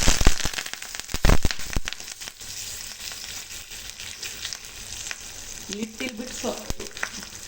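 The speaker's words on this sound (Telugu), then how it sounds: "కరివేపాకు కూడా వేసేసుకోవాలి." Asafoetida and curry leaves hitting hot oil while tempering a palakura pappu, a loud burst of sputtering and crackling pops that gradually settles into a steady sizzle, with faint stirring and brief voice-like sounds toward the end.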